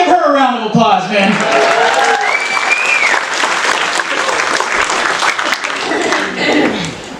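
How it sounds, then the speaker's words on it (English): A comedy show audience bursts into loud applause and cheering right after the comedian speaks, with a whoop rising above the steady clapping that carries on to the end. "Y'all give her a round of applause"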